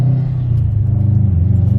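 A Subaru WRX STI sedan engine with a bug-eye front end drones in a steady, loud, low rumble from inside the car as it accelerates, its pitch holding fairly even throughout.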